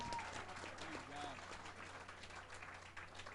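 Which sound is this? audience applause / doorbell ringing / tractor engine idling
audience applause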